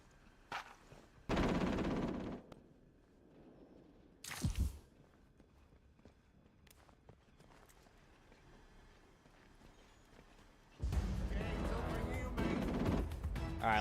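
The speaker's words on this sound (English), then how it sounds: "There's an Enfield LMG." Bursts of Enfield LMG machine-gun fire in Atomfall come in two or three loud, dense rattling volleys separated by quieter stretches, with faint footsteps in between.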